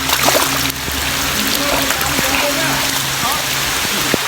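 Heavy rain pours down during a football game outdoors, a loud, steady hiss of falling water across the whole clip, with a voice talking over it.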